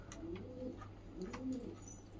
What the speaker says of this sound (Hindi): काफ़ी बड़े साइज में कबूतर और एक्टिव कबूतर है